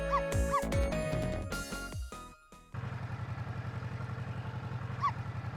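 A cartoonish dog barks in the video game Ghost Trick: a few sharp yips over busy game music and effects, then the music drops out and a steady looping background track takes over with one more faint yip.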